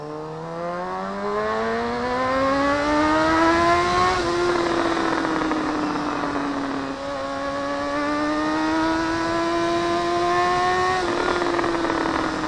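A 2007 Honda CBR600RR sport bike accelerates hard in first gear, its engine note climbing steadily in a loud, close, rising whine, briefly dipping at gear or throttle changes before climbing again over wind noise.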